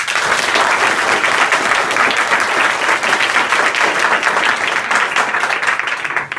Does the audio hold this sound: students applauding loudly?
yes